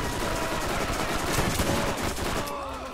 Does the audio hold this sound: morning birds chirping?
no